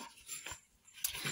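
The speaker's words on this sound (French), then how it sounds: "je suis désolée pour le bruit de clochette, hein, c'est le chat qui joue avec sa balle." A cat bats at its ball and sets a small bell jingling in a room, giving a few faint, scattered tinkles with quiet gaps between them.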